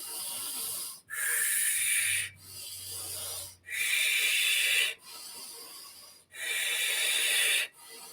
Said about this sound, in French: Et là, une grande inspiration. Et là, on expire.